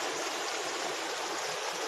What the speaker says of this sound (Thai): อันนี้ก็จะเป็นแม่น้ำเปงนะครับ